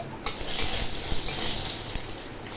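Asafoetida (hing) goes into a pot of cooking Bengali biulir dal, and a loud, continuous sizzle rises close by, broken by a few faint clinks and stirring sounds.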